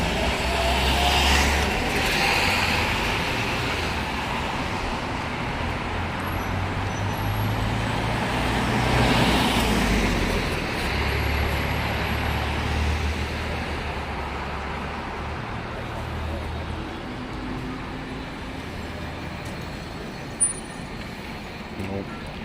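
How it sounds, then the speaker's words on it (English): Night road traffic flows steadily past a pedestrian island in the middle of a busy road, with a continuous rumble of cars and heavier vehicles swelling and fading, and a brief sharp sound near the end. "Everybody's watching that traffic to see if they can run across."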